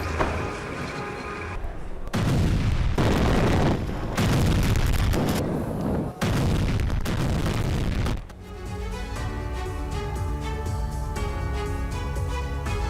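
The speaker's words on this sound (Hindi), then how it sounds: "गाइडेड बॉम्ब और आर्टिलरी से ये बड़ा अटैक किया गया" Deep, heavy booms from guided bombs and artillery in the Russia-Ukraine war roll one after another, each explosion sustained and rumbling, followed by a lingering low drone with no voices.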